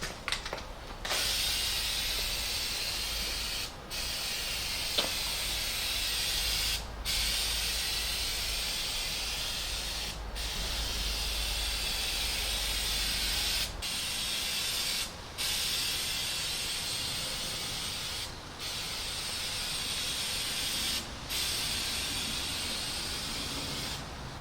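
Long continuous bursts of pressurized spray hiss as Herculiner bed liner coating is sprayed onto a 1999 Ford Ranger truck bed, broken by several short pauses, close and steady, with a low rumble early on.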